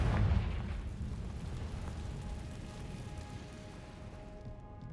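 Confringo fire spell blast in the video game Hogwarts Legacy: a loud booming explosion at the start that rolls off into a long rumbling, crackling tail fading over several seconds.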